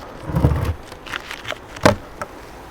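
Buzzing honey bees around a hive drifting past at close range in short bursts during a fall inspection, with a few soft thumps and no talking.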